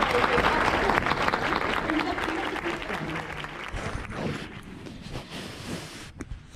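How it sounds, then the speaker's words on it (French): Applause from an audience at a model contest final in Paris, a dense, loud clapping that starts strong and gradually thins and fades, with some wind noise on the microphone. "Please have a big round. Les applaudissements forts"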